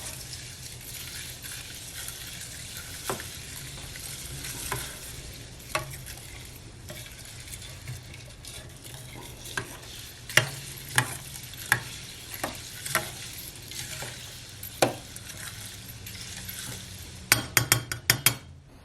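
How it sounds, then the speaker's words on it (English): Elderberry syrup simmering in a pot, a soft bubbling hiss beneath repeated clinks and scrapes of a utensil stirring against the pot, sparse at first and then quicker toward the end. "Just going to stir this up."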